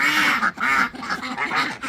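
Ducks quack loudly and continuously in a muddy farm duck yard during rainy season, with several overlapping calls close by.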